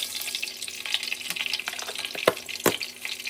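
Cumin and fenugreek seeds frying in hot oil for an Andhra crab curry, a steady soft sizzle and crackle with a couple of sharper pops near the end, heard alone at moderate distance.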